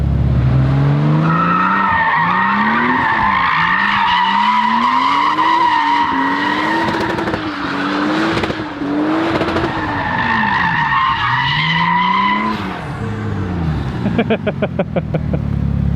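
A 2JZ-GTE swapped Lexus GS300 engine screams at high revs, bouncing against the limiter while tires squeal in a long continuous burnout, loud and close.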